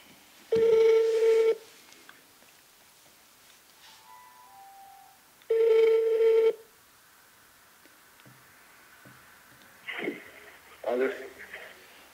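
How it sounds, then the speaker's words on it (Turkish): A telephone rings in two loud, sustained bursts about five seconds apart, each roughly a second long, with quiet room sounds and brief speech between and after them. "Telefon."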